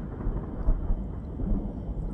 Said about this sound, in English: What is that noise? Sounds like a thunderstorm, but there's no thunderstorm.